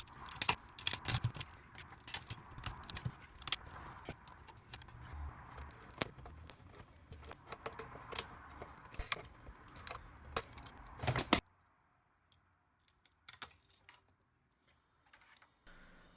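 A plastic meter casing is cut off a front panel, with a rapid series of close, sharp snipping and cracking clicks for about eleven seconds before it drops to near silence with a few faint scattered ticks.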